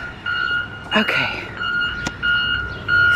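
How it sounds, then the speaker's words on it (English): Steady electronic beeping repeats in short tones from a construction vehicle nearby, with a person speaking briefly over it and some outdoor background noise, in Greeneville, Tennessee. "Sorry for the beeping. There's a lot of construction going on down there."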